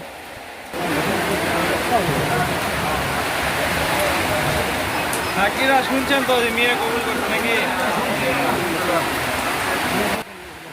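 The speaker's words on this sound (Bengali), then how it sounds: "বাইরে মুসুলধারে বৃষ্টি হচ্ছে এবং টিনের চারা হওয়ার কারণে শব্দটা ভেতর আরও বেশি শোনা যাচ্ছে" Heavy rain drums on a tin roof during a wedding gathering, a loud, constant wash of noise filling the room while someone speaks over it.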